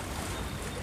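A fishing boat heads fast out to sea from Binh Ty port in Khanh Hoa, its engine a steady low drone under broad rushing water and wind noise, with no voices.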